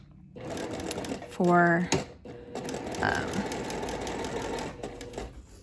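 Domestic sewing machine running a row of stitching on a French seam pocket, a short loud whirring burst of rapid needle clatter, then quieter mechanical handling noise while someone talks.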